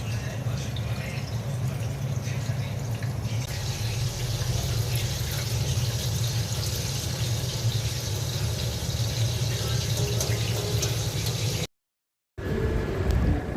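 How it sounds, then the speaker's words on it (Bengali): Mung dal lentils rinsed under running tap water in a home kitchen, a steady rushing, splashing flow that continues for over ten seconds, cuts out briefly, then resumes. "মুগের ডালটা ধুয়ে নিচ্ছি"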